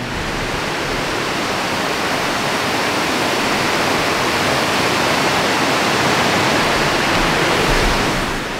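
A stream rushes steadily and loudly close by in Rize, Turkey, a dense continuous roar of flowing water with no pauses and no voices.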